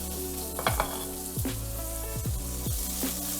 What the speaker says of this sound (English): I'm going to first of all add the onion.